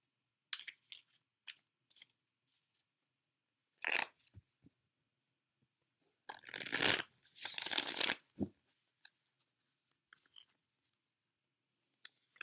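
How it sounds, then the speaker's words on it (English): Quiet close-up card shuffling: soft riffling bursts and light taps and snaps, irregular, with a couple of longer riffles in the middle. "couple more shuffles here"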